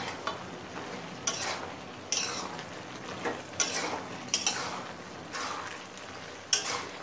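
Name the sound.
stirring water lily stems in a pan on high flame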